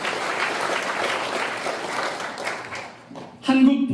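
An audience at a commemoration ceremony for the Korean Provisional Government anniversary claps steadily to welcome an introduced guest. The applause thins out after about three seconds, and a voice starts speaking over a microphone.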